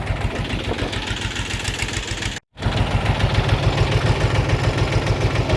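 The KM385VT diesel engine of a Kentavr 244SX tractor idles close by with a steady, low knocking rumble, warmed to about 70, briefly cutting out for a moment before chugging on evenly.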